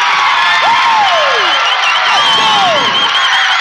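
A girls' varsity high school basketball crowd in a gym cheers and shouts loudly and continuously after a steal, with whoops and high voices rising over a dense roar.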